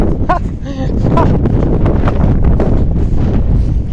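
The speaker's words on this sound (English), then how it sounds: "Very windy over here" Steady wind buffets the microphone with a constant low rumble throughout, while a voice is briefly heard near the start.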